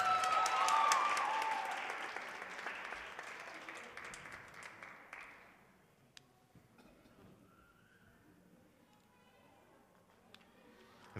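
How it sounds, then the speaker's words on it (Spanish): A burst of applause from a school awards ceremony crowd, loud at first and fading out over several seconds, leaving quiet room noise. "un fuerte aplauso"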